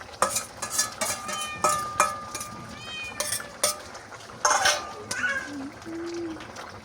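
A spatula stirs a fish, potato and cauliflower curry in a pan, making sharp intermittent scrapes and clatters. Brief wavering tonal sounds are mixed in, and a soft simmer sits underneath.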